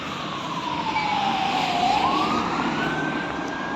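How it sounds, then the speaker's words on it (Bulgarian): An ambulance siren wails steadily and loudly through traffic, its pitch sweeping down and back up in a long cycle, close by and with no talking over it. "Една линейка там."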